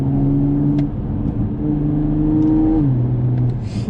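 A tuned 480 hp Toyota Supra with a catless downpipe and Valvetronic exhaust revs loudly up close, engine pitch climbing and holding, then dropping to a lower tone as it settles, with faint pops toward the end.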